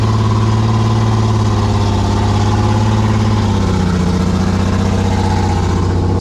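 A 4x4's engine roars loud and close as it claws up a steep, rain-soaked muddy hill, holding a heavy revving drone that shifts pitch as the driver works for traction.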